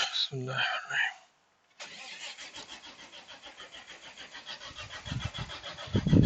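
A truck's cold engine is cranked on a freezing winter morning: someone speaks briefly, then a pause, then a long steady pulsing crank that strains on and builds louder toward the end as the engine begins to catch.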